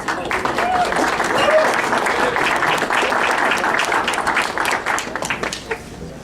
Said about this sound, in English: So a round of applause for everybody, please